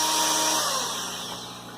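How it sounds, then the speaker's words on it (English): Rotary tool sanding lines into a PVC pipe aquarium log, a continuous close high-pitched grinding whir that fades gradually, with no voices over it. "And we're going to just sand some lines into it."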